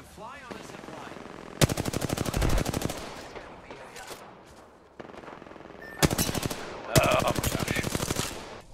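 Rapid automatic gunfire in Apex Legends, aimed at a trap, crackles in loud sustained bursts with short gaps between them, while a player's excited voice can be heard faintly in the quieter stretches.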